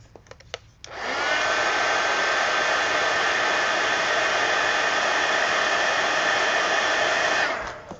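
Hair dryer blowing on a coloring page, switching on after a few faint clicks into a steady, loud, close whirring roar that holds for about six seconds before cutting off, with no voices.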